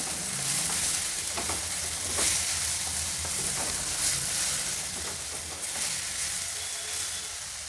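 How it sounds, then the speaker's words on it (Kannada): Brahmi greens frying in a pan with spice mix: a steady, loud sizzle and crackle runs throughout, with faint stirring scrapes and no talk. "ಸೊಪ್ಪಿನ ಹಸಿ ವಾಸನೆ ಎಲ್ಲ ಹೋಗೋವರೆಗೂ ಹುರಿಬೇಕು."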